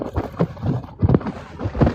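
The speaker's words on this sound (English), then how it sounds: "It is super windy today." Gusty west wind of about 40 km/h on the coast at Gabarus, Cape Breton, buffets the microphone in uneven bursts, rumbling low and rising and falling over a couple of seconds.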